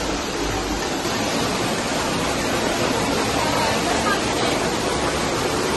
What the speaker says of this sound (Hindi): तो ये केव का पहला झरना है।